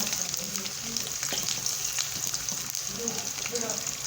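Mustard seeds, garlic, cumin, curry leaves and green chillies frying in hot oil, with a steady close sizzle and crackle spattering continuously throughout under a constant high hiss.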